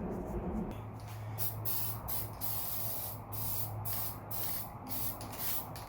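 Aerosol cleaner hisses in repeated short bursts onto the gasket surface of a Seadoo 951/947 two-stroke engine during a top-end rebuild, close and fairly quiet, with brief pauses between sprays.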